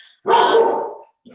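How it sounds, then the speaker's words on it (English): A house dog barks once during an online panel discussion, a single loud, close woof lasting most of a second, followed by a faint short yip after a brief silence. "Sorry about the dog."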